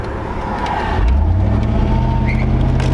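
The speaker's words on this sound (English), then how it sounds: "I don't know if you'll be able to pick up the supercharger noises on camera, but it does definitely heavenly sound" Engine drone inside a Ford Lightning truck with a supercharger, swelling into a louder, steady low roar after the first second, with a faint whine above it and no talking.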